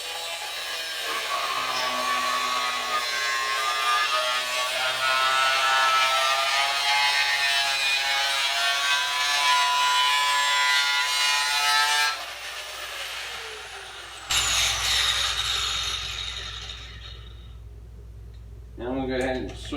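A 4.5-inch cut-off wheel grinds steadily through metal on a 1971 Chevelle front end, a loud, sustained high-pitched whine that cuts off abruptly near the end before a brief spin-down.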